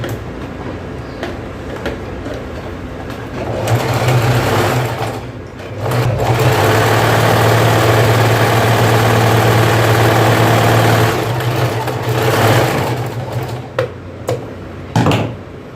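An interlock overlock sewing machine stitching blouse fabric runs in a loud, close, continuous whirring hum for several seconds, with mechanical clatter as it starts and stops, then brief bursts near the end.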